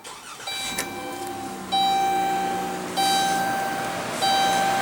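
A 2015 Chrysler Town and Country's 3.6-liter Pentastar V6 cranks and starts, settling into a steady idle, while a few repeated electronic chimes sound from inside the cabin.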